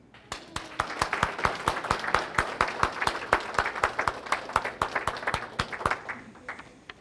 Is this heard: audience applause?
yes